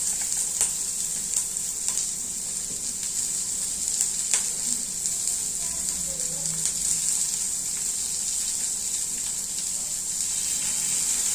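Paneer frying in a pan with salt, a steady hissing sizzle with occasional stirring scrapes and small clicks, continuous and close.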